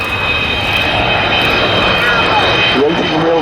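Avro Vulcan XH558 jet bomber passing overhead at RAF Waddington with its undercarriage lowered, a loud steady broadband engine roar filling the whole stretch, with voices faintly audible beneath it.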